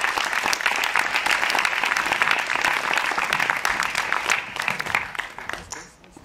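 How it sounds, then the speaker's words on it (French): An audience at a masterclass applauds with dense, steady clapping that fills the room, loud and continuous before fading out near the end. "on peut vous applaudir, bravo"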